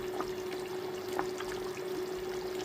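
Lemon juice being poured into a beef curry, a soft steady trickle with a few faint drips over a constant background hum.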